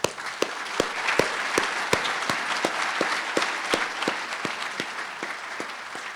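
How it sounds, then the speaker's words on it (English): An audience at a 2019 fall graduate recognition ceremony at Ohio University Southern gives sustained applause, with one nearby pair of hands clapping in a sharp, regular beat above the crowd. "Please join me in a round of applause and recognition."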